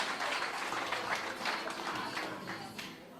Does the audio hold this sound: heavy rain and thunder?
no